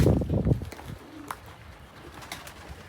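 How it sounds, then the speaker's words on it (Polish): Young racing pigeons in a loft give soft, low cooing close by, mixed with rustling and faint chirps in a quiet indoor space. "To jest w ogóle gołębnik lotowy. Gołębi młody."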